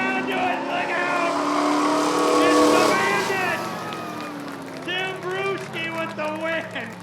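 Pontiac and Dodge drag racing cars accelerating at Rockford Speedway, a loud, continuous engine roar that rises in pitch and then trails off, with a spectator talking excitedly over it.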